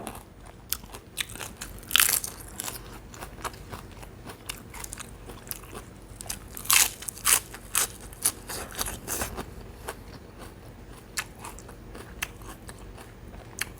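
Crispy batter-coated fried chicken wings, spicy crunchy coating, being bitten and chewed up close, with sharp crackling crunches at irregular intervals and a few louder bites standing out.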